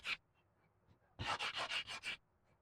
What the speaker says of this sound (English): You really don't want to sand on this, but you can just sand on this top edge a bit.